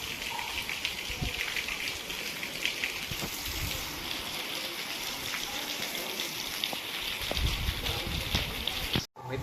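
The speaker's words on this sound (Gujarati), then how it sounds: "અમારા ગામમાં અત્યારે ફૂલ વરસાદ આવે છે" Heavy rain pours down on a village, a dense, continuous hiss of drops hitting surfaces with a gushing, water-running undertone, steady and close throughout until a brief dropout near the end.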